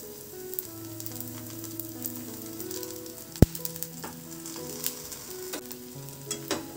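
Oil sizzles steadily in a pan as a breakfast dish fries, a continuous close crackle with a few sharp pops and clinks of a utensil, no voices.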